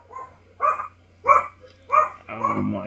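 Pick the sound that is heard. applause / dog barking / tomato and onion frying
dog barking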